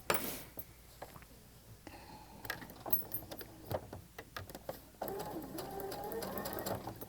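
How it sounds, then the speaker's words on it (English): A sewing machine stitches a quilt seam in short runs of fast mechanical chatter broken by pauses, then settles into a steadier continuous whir near the end. "pick it up, flip it over, and start sewing from this side"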